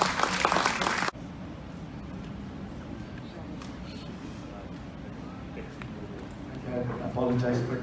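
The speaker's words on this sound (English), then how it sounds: "A round of applause, please." Audience applause at a bank innovation conference, a steady crowd clapping that fills the room for several seconds, with a speaker's voice coming in near the end.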